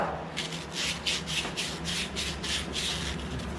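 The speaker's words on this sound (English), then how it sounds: "So let's go ahead and actually sand this down." Sandpaper rubbing buildup off the inner walls of a Honda lawnmower carburetor, a steady run of about ten rhythmic back-and-forth scrubbing strokes, close and fairly quiet, with no talking.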